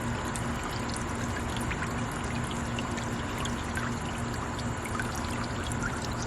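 A solar fountain pump pushes water out through a five-head sprayer, making a steady, continuous splashing and pouring rush that stays loud and even throughout, with no talking.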